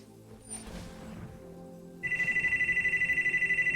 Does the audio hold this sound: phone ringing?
yes